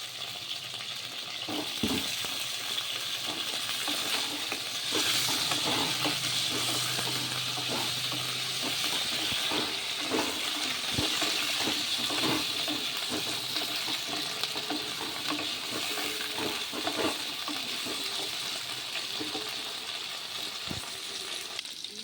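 Potatoes frying in hot oil for a Bengali pumpkin-stem and potato-eggplant chorchori, with a steady loud sizzle and repeated scraping and clinking of a spatula being stirred through the pan, and no voices.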